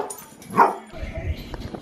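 A single short dog bark or yip rings out close by in a quiet indoor room, with faint background talk and rustling around it.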